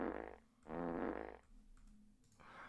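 A normal fart sound effect gives two close, buzzy blurts back to back, the second longer and richer, followed by faint clicks and a brief quieter tail at the end.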